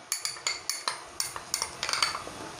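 A spoon scrapes and taps against a pan as garlic ginger paste goes into frying egg curry. About a dozen close, quick metallic clinks sound alone, with no talking.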